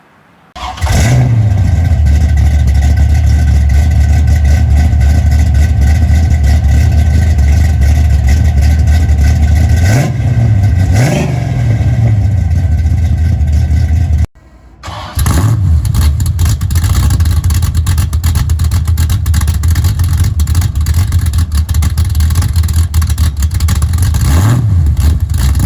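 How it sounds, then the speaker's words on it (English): A 1968 Pontiac Firebird idles with a deep, rumbling exhaust, punctuated by several sharp revs that rise and fall, and one brief cut in the middle. "I'll go ahead and throw a little before and after clip in there of the exhaust"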